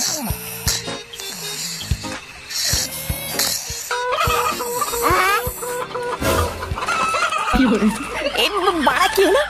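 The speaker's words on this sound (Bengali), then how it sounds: "এত রাতে মুরগি চিল্লাচ্ছে কেন?" A cartoon chicken squawks and clucks at night in a series of short, agitated bursts, heard alongside animated characters' voices and comic sound effects.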